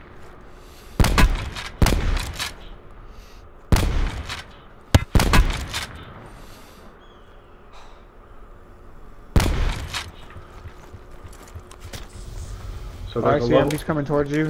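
Gunfire in an online shooter game cracks out in several sharp, loud single shots spaced a second or more apart, with people talking in between and over the shots.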